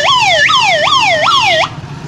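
A person vocally imitates a police car siren, producing loud rising-and-falling wails that repeat about four times in quick cycles before stopping abruptly.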